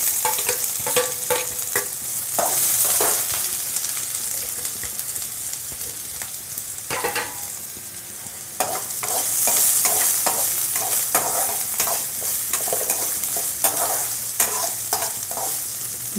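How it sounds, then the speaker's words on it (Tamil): Finely chopped half of a large onion fries with garlic in a pan for banana flower poriyal, a loud close sizzle punctuated by frequent scraping stirs, with no talking. "இந்த வடிகட்டியில் வடிகட்டி வெங்காயம் நல்லா வதங்கிட்டோங்க"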